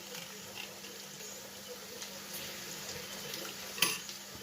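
Vegetables with a little added water being stirred in a pan while cooking for egg noodles, with faint scraping, soft sizzling and a brief utensil clink near the end, quiet and close.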